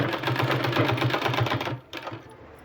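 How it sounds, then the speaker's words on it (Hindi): A sewing machine stitches along a sleeve edge in a steady, rapid run of needle strokes, then stops briefly and restarts, close and clear, with no voice over it. "इसका किनारी में इस तरह से साइड में इस तरह से सिलाई लगाना है"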